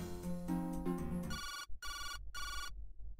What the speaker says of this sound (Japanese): ん？ 電話か。